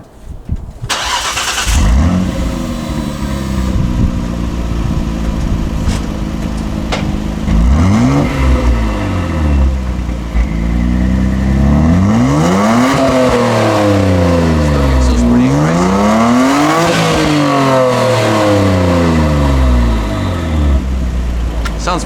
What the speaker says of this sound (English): Sounds pretty good for being a stock exhaust, I reckon.